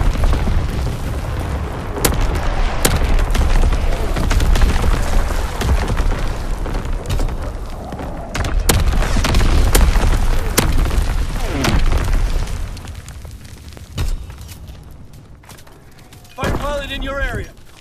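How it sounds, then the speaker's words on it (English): Artillery strike explosions from the World War II shooter Call of Duty WWII, a dense run of heavy booms and sharp cracks rolling continuously for most of the stretch before thinning out, with a voice speaking briefly near the end. "Artillery ready for orders. Awaiting coordinates. Firing battery one."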